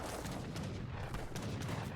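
Cannon fire from Revnak cannons attacking Papal Lancers in the Age of Empires III strategy game: loud, dense, overlapping booms and gunfire cracks in a continuous battle barrage.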